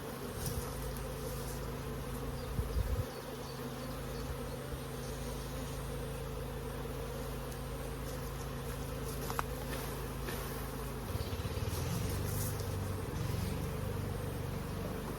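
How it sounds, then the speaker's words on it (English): A dense, steady buzz of many honeybees droning continuously around a hive, close and fairly quiet, with no voices. "Let's find some bees to shake out into that box."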